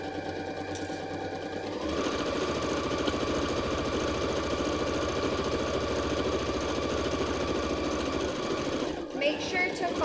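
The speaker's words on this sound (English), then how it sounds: "we're going to head on over to the sewing machine" A sewing machine runs steadily for about seven seconds, stitching around the curved edge of fabric for a tie headband, its close, even motor hum and rapid needle chatter starting abruptly and stopping near the end, with faint speech around it.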